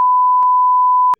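A steady high-pitched censor beep tone runs continuously for just over a second, loud and alone, bleeping out speech with brief clicks at its start, middle and end.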